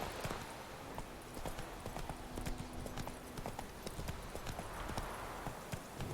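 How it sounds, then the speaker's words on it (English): Horse hooves clip-clop in a steady galloping rhythm in The Witcher 3 video game, dense repeated thuds running continuously at moderate loudness, with a faint voice briefly in the background. "This horse needs better sat-nav."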